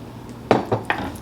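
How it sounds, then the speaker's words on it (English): Cooked salt mackerel dropped into a pot, three quick clattering knocks of utensil against cookware, close and clear against a quiet background. "now I'm going to add my salt mackerel"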